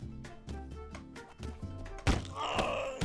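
Combat impacts from the Half Sword medieval fighting game: several dull thuds and thwacks over a droning tone, then a sharper, louder hit as a spin kick connects, followed by a bright ringing clash.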